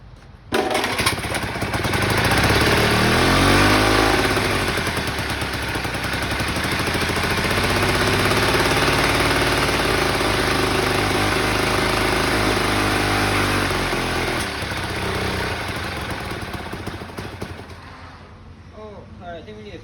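Small 3.5 hp outboard motor running loud and close with its throttle opened further, a rough, buzzing drone that rises and dips over several seconds before fading out.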